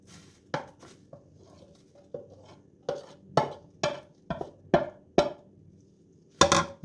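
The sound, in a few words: mixing chopped sushi nori, avocado and smoked salmon together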